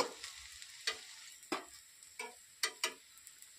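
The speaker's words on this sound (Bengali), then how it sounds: "এটাকে উল্টে পাল্টে ভালো করে লাল লাল করে ভাজা করে নেব।" Quiet, sparse crackles and pops of a masala flatbread shallow-frying in oil and being flipped, each spitting burst separated by calm gaps.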